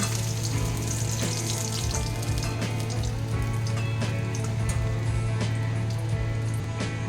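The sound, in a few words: fish pieces frying in oil in a wok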